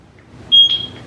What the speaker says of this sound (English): Press the sync button until you hear the beep